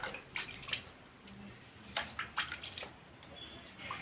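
Tap water runs and splashes in irregular bursts during face washing, with brief drips and pauses between the louder gushes.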